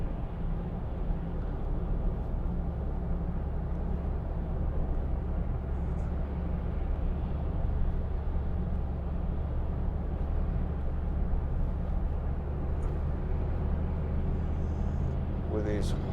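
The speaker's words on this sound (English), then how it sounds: "We're on the motorway doing 50 miles an hour." A 2013 Hyundai i40 1.7 CRDi Style five-door cruising on a motorway at about 50 mph, heard from inside the cabin as a steady, low, even road and engine drone that holds for the whole stretch.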